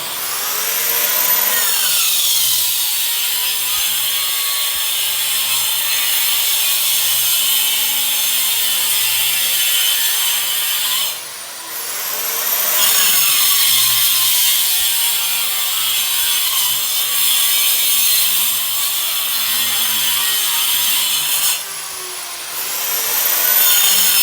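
A power cutter grinds a groove into a wall in a new house under construction, a loud sustained abrasive whine with rising and falling pitch, broken by two brief pauses as the blade lifts and bites again, with no talk.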